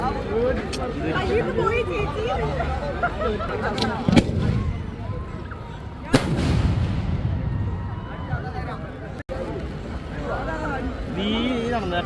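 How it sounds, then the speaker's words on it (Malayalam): Festival fireworks, including aerial umbrella shells and dynamite, go off in a few heavy booming bursts spaced several seconds apart over a steady, loud crowd murmur. "ആളുടെ വെടിക്കിട്ട് കണ്ടോളല്ലേ"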